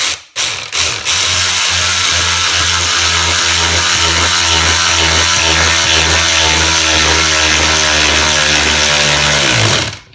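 A 20V cordless ratchet drives a screw into a wood block with no pilot hole, giving a steady loud motor whir that runs almost the whole time before stopping abruptly.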